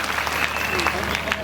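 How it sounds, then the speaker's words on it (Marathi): An audience claps during a comic wedding-rhyme performance at a village event, with steady, dense applause over the whole short stretch and voices audible beneath it. "आवडला तर नक्की टाळ्या वाजवा"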